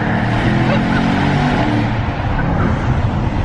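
A Mercedes E63S AMG accelerates hard through a tunnel, a dense, loud engine roar with strong low rumble sustained throughout, heard from inside the car.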